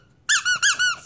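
A squeaky broomstick-shaped dog toy squeezed four times in quick succession, bright close squeaks with short gaps between, alone in a quiet room.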